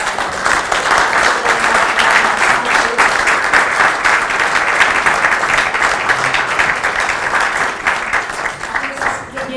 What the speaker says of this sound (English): if I can ask for a big round of applause for our speakers in this first